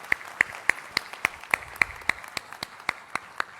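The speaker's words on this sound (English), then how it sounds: "Shall we all give a good round of applause" Steady, evenly spaced handclaps ring out at a graduation ceremony, about a dozen sharp claps in a regular rhythm, clear and close.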